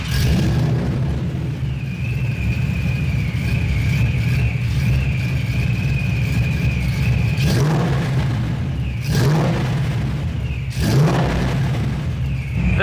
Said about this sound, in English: dual Flowmasters on a Mustang, and this thing is running so good